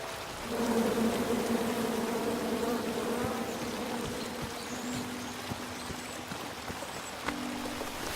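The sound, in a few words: bees buzzing in a video game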